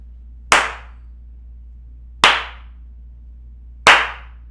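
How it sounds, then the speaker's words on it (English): Three single hand claps, spaced well apart, snap loudly and close in a small room lined with acoustic foam panels, each leaving a short decaying tail of echo before quiet returns. "So let's go ahead and do the clap test again and see how that sounds as well."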